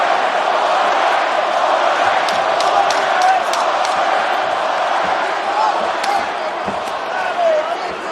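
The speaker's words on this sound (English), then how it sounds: "Pro Masvidal crowd voicing their support late in the round." A large fight crowd keeps up a steady roar of support for Masvidal late in a round, dense and continuous with scattered shouts and whistles.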